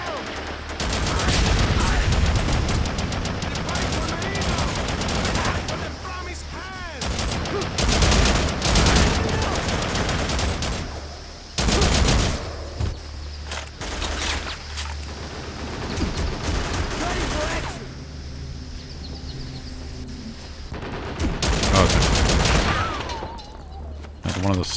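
Heavy automatic gunfire and explosions from the shooter video game Haze rattle in loud, dense bursts with brief pauses, while people talk over the din.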